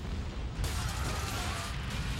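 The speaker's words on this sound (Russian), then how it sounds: "Безо всякого предупреждения мощный взрыв сотрясает завод." Powerful explosion at an oil refinery with 1800 workers on site: a sudden loud broadband blast hits after a moment of low rumble, then a sustained roaring, rumbling wash continues to the end.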